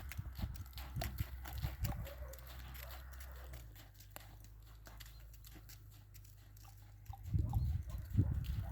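A horse moves at a slow trot, a jog, with soft, rhythmic hoofbeats in a steady two-beat pattern, fairly quiet and close, with low rumbling in places.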